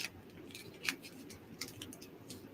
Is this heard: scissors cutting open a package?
yes